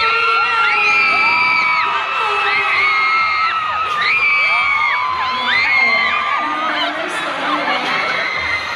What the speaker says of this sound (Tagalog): So make some noise for Donnie